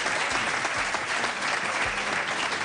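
A studio audience applauds comedian Don Carter at a live comedy show, a dense, steady wash of clapping that holds at an even level for the whole stretch, with faint voices buried underneath.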